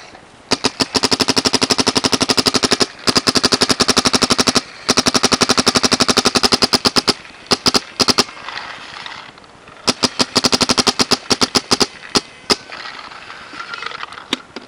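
A Dangerous Power G4 paintball marker fires in loud, rapid strings of shots, close up, with brief gaps between volleys and a sparser, slower run of shots toward the end as the paint runs out.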